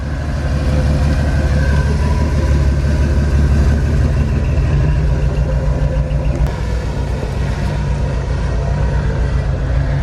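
A Ford F100 pickup truck's engine idles in a desert wash, a loud, steady low rumble that continues unbroken from start to finish with no voices.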